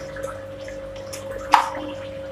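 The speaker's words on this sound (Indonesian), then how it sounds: "Dari 4 lubang angin itu memberikan ya gelembung udara sebanyak itu. Itu karena saya pakai batu aeratornya yang besar ya." An aquarium aerator pushes air through a large air stone, giving soft watery bubbling and gurgling over a steady low pump hum, with one louder splashy burst.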